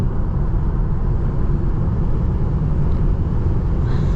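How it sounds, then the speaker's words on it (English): A car rushes past with a steady, loud broadband road roar and wind noise throughout, heard close by from inside or beside a 2024 Tesla Model 3 Long Range AWD on the road. "Here's a car flying by us."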